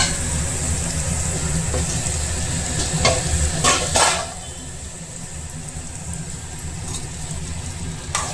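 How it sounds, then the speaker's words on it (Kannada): Chopped snake gourd tipped into a hot tempering of browned urad dal, crackling and sizzling steadily in the pan with a few sharper stirring clinks, close and fairly loud throughout. "ಪಡವಲಕಾಯಿ ಹಾಕ್ತಾ ಇದ್ದೀನಿ"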